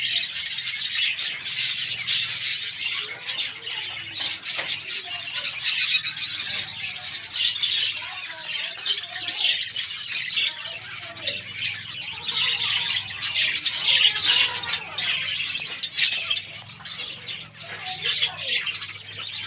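Pet finches chirp and squawk continuously in a dense, busy chorus of high calls, close and moderately loud throughout, with some wing flutters and no talking.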